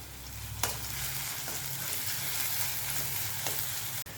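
Chopped tomatoes added to sautéed onion in a pan for a bitter gourd (karela) vegetable dish, a steady close-up sizzle and frying hiss with a few scraping stirs of a spoon, no talking.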